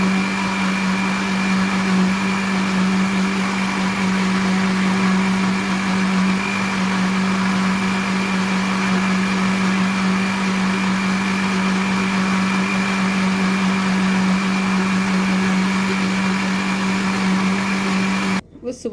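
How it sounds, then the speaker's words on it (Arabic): A blender mixing sesame paste for tahini whirs steadily at a constant pitch for a long stretch, loud and close, then cuts off abruptly at the end. "انا كده بضرب في الخلاط ماشي عشان خاطر الخليط كله يتجانس مع بعض."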